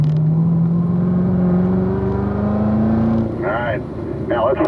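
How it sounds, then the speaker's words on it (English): Race car engine building as it accelerates out of a corner on a circuit, a steady rising drone heard from the cockpit, with a voice talking over part of it. "now roll into the throttle nice and smooth"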